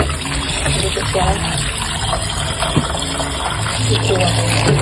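Kangkong leaves being rinsed by hand in a basin of water, with steady sloshing and trickling close by, a third wash of the greens, while a person talks over it.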